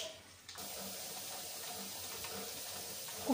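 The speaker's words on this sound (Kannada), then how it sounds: "ಕುಕ್ಕರ್ ಸ್ಟೀಮ್ ಕೂಗ್ತಾ ಇದೆ" Steam hissing steadily from a pressure cooker on a home stove after tempering, a continuous rushing whoosh that stays even and fairly loud throughout.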